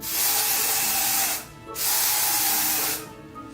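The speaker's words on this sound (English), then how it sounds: "I'm gonna spray the inside of the cap." Two long bursts of aerosol spray hiss close by as the inside of a wig cap is sprayed, each lasting over a second, separated by a brief pause.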